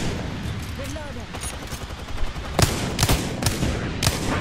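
Gunfire in the video game Apex Legends: a few sharp, loud shots crack out in the second half, spaced irregularly over a steady background hum, with a voice talking.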